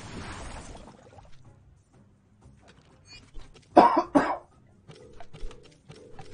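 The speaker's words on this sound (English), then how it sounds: "Still got a little bit of a cough." A person coughs twice in quick succession, fairly close and loud, after a stretch of quiet room tone with faint background noise, a sick person still getting over flu.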